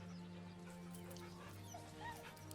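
Dog sounds from the video game Baldur's Gate 3, faint whimpers and soft yips over a low steady hum and background noise, quiet throughout.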